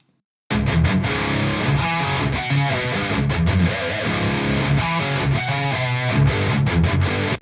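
Heavily distorted electric guitar plays a chugging riff after a brief silence, loud and dense with sharp rhythmic stops; a Soldano SLO100 amp boosted by an 808 overdrive into a Mesa cabinet with V30 speakers, miked with one SM57.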